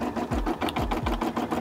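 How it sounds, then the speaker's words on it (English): A Brother SE600 embroidery machine stitching out a design, its steady needle rhythm repeating about twice a second in a close, continuous mechanical patter with no talking. "you see the SE600 doing its thing, stitching out"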